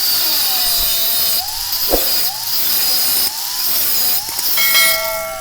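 A power tool cuts through a metal bar for a home-built lat pulldown machine, giving a loud, steady whine with several short shifts in pitch and pauses as the cut goes on, close by and with no one talking.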